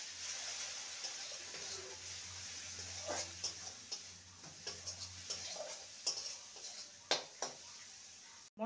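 A spice masala with Kashmiri chilli powder is sautéed in a pan for a long beans and moong dal dish, with quiet scraping stirs and light clinks over a soft, low sizzle.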